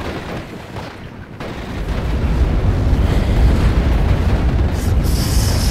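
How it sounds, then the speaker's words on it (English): Off-map rocket strike in the WWII strategy game Steel Division: Normandy 44, a rising wall of heavy rumbling explosions that swells after a quieter start and stays loud and continuous, with no talking. "here we come with the rocket strike"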